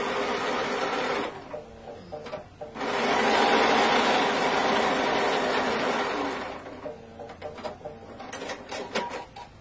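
Domestic sewing machine stitching fabric for Easter bunny ears, a steady whirring run of stitching with short pauses and a few start-stop bursts toward the end, close and clear without speech.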